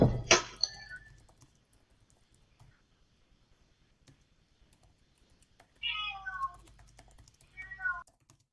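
A domestic cat lets out a loud meow at the start and two more drawn-out meows later, close to the microphone, with soft keyboard typing and clicking in the quiet gaps between.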